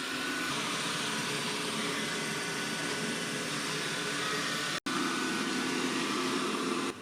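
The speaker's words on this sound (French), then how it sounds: "l'aspirateur va faire un petit mouvement arrière pour bien nettoyer l'ongle" A Dreame L20 Ultra robot vacuum cleaning along the edges of a room, giving a steady, even whir of suction and motor noise with a brief drop-out partway through, running without speech.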